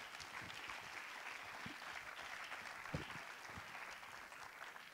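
An audience at an innovation awards ceremony claps steadily, a dense, even patter of applause heard at a distance and fairly quiet, without any talk over it.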